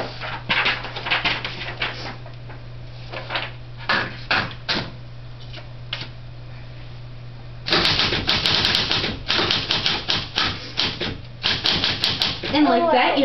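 Typewriter keys clacking in quick irregular bursts with pauses, then a denser run of strikes and a carriage return near the end, with a faint background hum.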